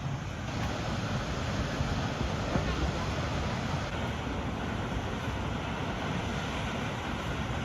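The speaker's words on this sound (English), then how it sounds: "Here it is, Lingmala waterfall." Lingmala waterfall in Mahabaleshwar, India gives off a steady, dense rush of falling water, broadband and constant throughout, with wind buffeting the microphone.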